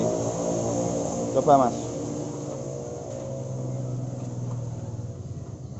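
Motorcycle engine with a stock carburetor revving in a repair shop, a steady idle rumble with a brief sharp rev burst early on, while people talk nearby.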